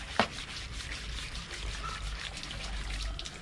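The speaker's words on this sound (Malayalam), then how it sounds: "ഇതിനകത്ത് ഇങ്ങനെ വെള്ളം വന്നുകൊണ്ടിരിക്കും പൈപ്പ് ഓണാക്കിയിട്ട്." Water streams steadily from a hose pipe while a vehicle's underside is washed of mud and dirt, a continuous close trickling and splashing with one brief sharp spike near the start.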